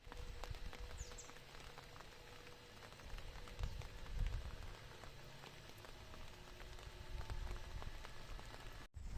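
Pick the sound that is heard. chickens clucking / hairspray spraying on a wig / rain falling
rain falling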